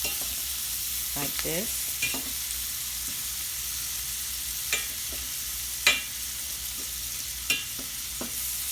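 Shrimp sizzle steadily in a hot pan as they are flipped. Scattered scraping and clinking from the turning sit over the constant frying hiss, and a voice speaks briefly.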